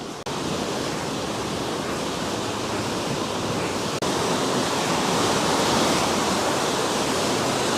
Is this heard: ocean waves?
yes